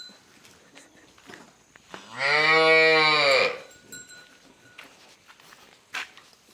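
A cow moos once, loud and close, a long harmonic call of about a second and a half, with quieter background noises before and after, on a cattle farm in China.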